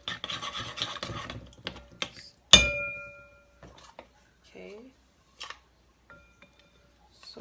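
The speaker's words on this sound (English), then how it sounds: "And then I'm just going to whisk it in." Peanut butter whisked into muffin batter for ginger brittle muffins: a fast, rasping scrape of the whisk against the bowl, then a single ringing knock and scattered quieter taps with near silence between.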